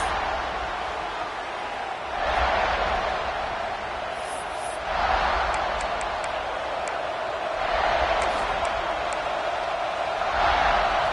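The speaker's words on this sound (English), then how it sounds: "This crowd ready to make its presence known." A large stadium crowd cheers and roars at a Miami vs. South Carolina college football game, with the noise swelling in waves several times under a steady bed of crowd murmur.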